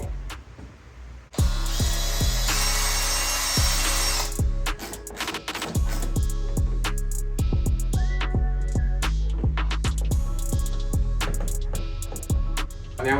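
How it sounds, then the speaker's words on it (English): A power drill with a 7mm bit widens a bracket hole during a fuel tank install on a DRZ400E motorbike, giving a short loud burst of drilling followed by clanks and handling noises. "grab a 7mm drill bit, going to drill that hole out a little bit bigger"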